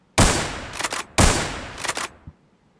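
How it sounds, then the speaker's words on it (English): Video game shotgun firing a flame shot, two loud blasts about a second apart, each a sharp crack trailing into a roaring burst before cutting off. "right now the shotgun for old fire just has a flame shot"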